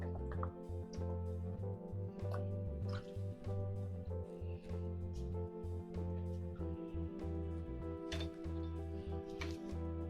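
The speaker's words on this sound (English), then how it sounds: "we need a tablespoon of lemon juice" A tablespoon of lemon juice is poured into pumpkin hummus ingredients, heard as faint soft drips and trickles beneath a steady tonal background, with no talking.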